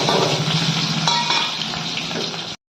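Dried chillies and garlic fry in hot mustard oil, a steady loud sizzle and crackle with faint stirring clinks, holding evenly before cutting off abruptly.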